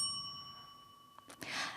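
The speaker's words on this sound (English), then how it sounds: "the bell will ring once like this" A single timing bell used at a university English speech contest rings once, a bright metallic ding that rises clearly over quiet room tone near the end.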